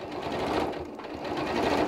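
A sewing machine back stitching a fabric gift card case made from scraps, a brief, steady, close whirring run of rapid stitches with no talking.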